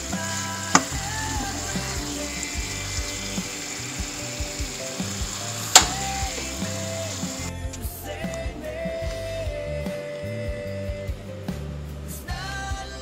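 Chicken feet coated in thick black bean paste sauce steaming in a pot, a steady close sizzling hiss with faint clinks and scrapes of cookware throughout, no voices.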